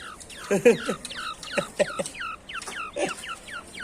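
Male quail kept as a pet giving rapid, repeated high chirping calls in short bursts, close by, with faint background noise.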